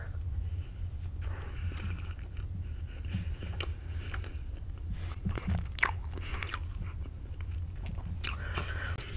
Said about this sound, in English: I just need you to chew it